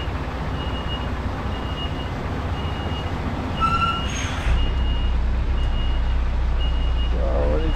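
A truck reversing at night, with a regular beeping reverse alarm repeating at even intervals over a low engine rumble, a short hiss partway through, and a louder engine drone afterward.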